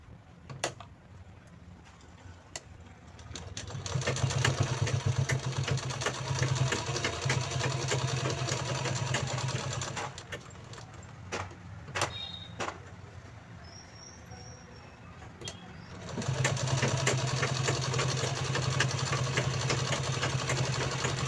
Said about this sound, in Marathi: फोल्ड करून याच्या तिन्ही साईडला आपल्याला शिलाई देऊन घ्यायची आहे